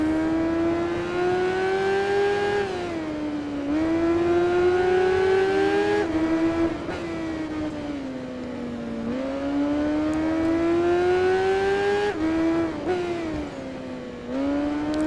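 A BMW K1200R motorcycle engine at Suzuka Circuit in the racing game Tourist Trophy, loud and close, the revs climbing steadily through each gear then dropping sharply at every shift, repeating across several gear changes.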